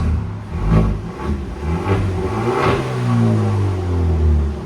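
A Kia Stinger 2.0 Turbo engine revs up in a few quick throttle blips, then holds a higher steady drone. It is close and fairly loud, with no talking.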